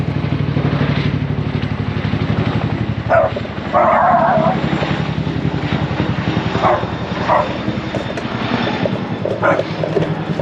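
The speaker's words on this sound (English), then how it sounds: "My little dog loves to shout at the Chinooks." A small dog barks repeatedly at a passing Chinook helicopter, whose heavy rotor thump and engine drone fill the background throughout; the sharp barks rise above the steady low rumble, with someone talking now and then.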